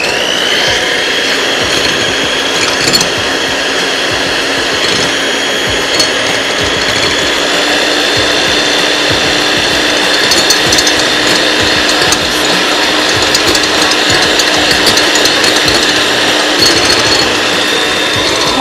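An electric mixer beats salted egg whites for a light raspberry cheesecake, a steady loud whirring whine that runs unbroken and alone throughout.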